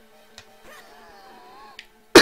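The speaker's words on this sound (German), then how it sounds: "ich habe ein bisschen Husten" Several short coughs from a person with a slight cough, a couple of faint throat-clearing bursts followed by one loud, sharp cough at the end, close up and otherwise quiet.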